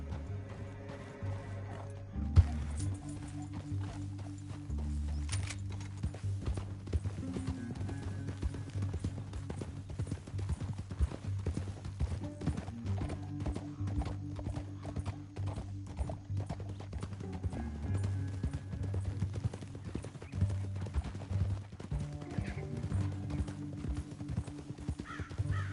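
Horses' hooves clip-clop at a steady galloping rhythm during a western chase scene, continuous throughout over sustained low tones.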